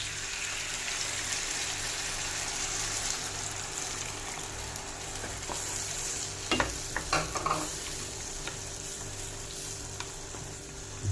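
Chicken cooking in a pan after coconut milk is poured in, a steady sizzle and bubbling with a few sharp spoon scrapes and clinks near the end, close by with no talking.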